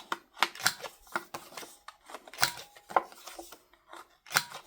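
Paper cards for a Christmas countdown calendar having their corners rounded, producing a quick series of sharp, close-up crunchy snips and clicks in an irregular rhythm, with no other sound in between.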